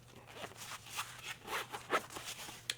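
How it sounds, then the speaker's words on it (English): MoKo tablet sleeve bag being zipped shut, a soft run of short, rasping zipper bursts in a quick uneven rhythm, close but faint, with no talking. "when you do zipper it up"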